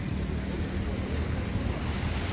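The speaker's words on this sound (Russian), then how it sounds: "Немножко совсем есть волна, совсем чуть-чуть." Small, gentle waves wash at a seaside promenade embankment, a continuous soft surf rumble with some wind noise on the microphone, no voices.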